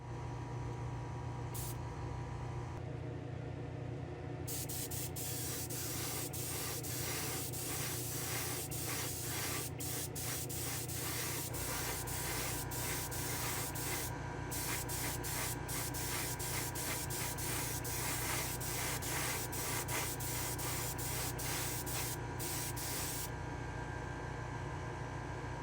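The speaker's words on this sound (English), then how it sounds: "Let me go head over to the spray booth. We'll get this clear coated" A spray gun lays clear coat on a homemade metal chin spoiler for a Cuda endurance-style car inside a spray booth, a steady loud hiss running the whole time with short breaks and bursts of air.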